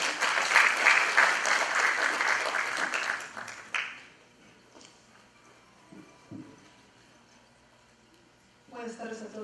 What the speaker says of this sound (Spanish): La recibimos con un voto de aplausos